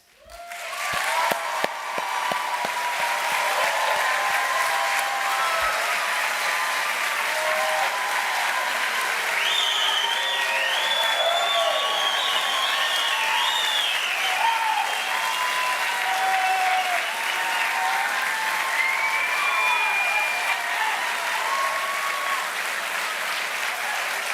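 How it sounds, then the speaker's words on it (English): A standing audience at a police academy graduation applauds at length, dense sustained clapping with scattered whistles and cheers rising over it, loud and continuous for over twenty seconds. "please rise with me and celebrate this momentous achievement with a round of applause"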